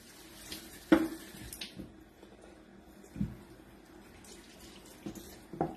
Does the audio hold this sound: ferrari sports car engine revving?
no